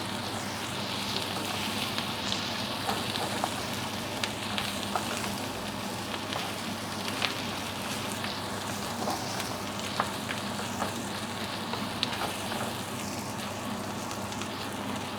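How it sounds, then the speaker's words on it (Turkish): Butter melts in a hot pan with a steady, dense sizzle and fine crackling throughout, close and constant, with no talking. "Biraz tereyağı ekleyeceğiz. Evet tereyağımızı da koyduk. Şöyle bir tereyağımız da erisin."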